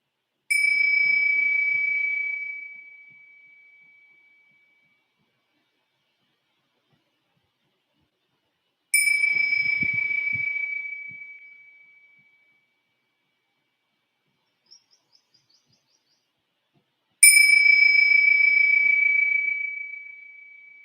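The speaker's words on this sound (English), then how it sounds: "Now with the sound of the bell slowly returning." Meditation bell struck three times at slow, even intervals, each clear ring ringing out alone and fading over a few seconds into silence.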